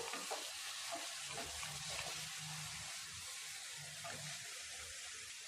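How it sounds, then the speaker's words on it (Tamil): Onions and tomatoes sauté in a pan for egg masala with a quiet, steady sizzle. The crackle is continuous and faint, with soft stirring texture and no voices. "இது எல்லாம் கொஞ்சம் நல்லா வதங்கட்டும்"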